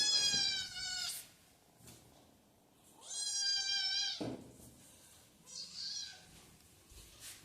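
A pet cat meows nearby: a long meow, a second drawn-out one and a shorter, softer third, with quiet pauses between them.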